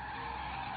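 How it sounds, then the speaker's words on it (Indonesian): A car screeches in a sustained, loud tire squeal as it is rammed in a crash in a gangster action film, one continuous skid with no talk. "Tiba-tiba mobil mereka ditabrak."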